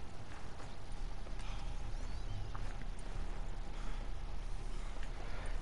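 Two horses clip-clopping at a steady walking pace, hooves heard over a constant noisy outdoor background with no talking.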